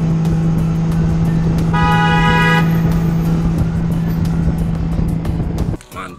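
A toy tall parcel delivery truck sounds a bright electronic horn honk lasting about a second, over a loud, steady motor hum that cuts off abruptly near the end.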